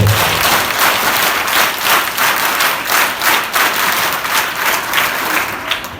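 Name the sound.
children clapping, applause at scout unit formation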